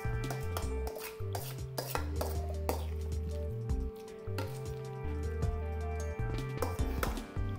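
Dishes, utensils and a bowl clinking and knocking in a home kitchen while making potato salad, a busy run of close, rhythmic clatters and taps throughout.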